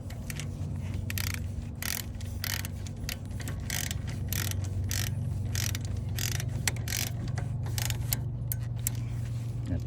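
A hand ratchet snugs the front brake bolts on a 2013 Kia Sportage 2.4, giving repeated quick clicking bursts in an irregular rhythm, close up over a low steady hum.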